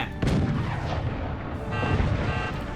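Missiles fire at a base in the video game Forts, a sudden heavy boom followed by a sustained rumbling roar of explosions and rocket fire, loud and dense with no talk.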